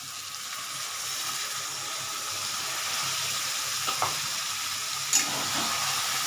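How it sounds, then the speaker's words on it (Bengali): Water poured into a hot frying pan of potatoes, likely during the making of a Bengali fish curry, gives a continuous soft sizzling hiss, fairly quiet, with a couple of faint knocks partway through. "এবার এই জলটা আমি এখানে দেবো"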